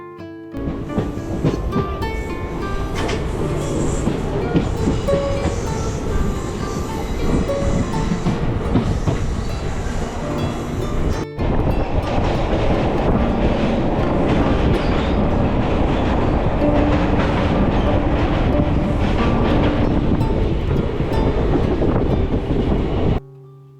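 A train in the hills on the Sengottai line rumbles steadily along the tracks with rhythmic wheel clatter and rattling carriages, loud and continuous, with a brief break midway.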